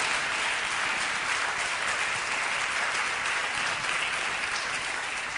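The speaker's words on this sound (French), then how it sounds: "Can we clap hands for God?" A church congregation applauds for God, with dense, steady hand clapping that fills the hall at an even loudness throughout, no voices standing out.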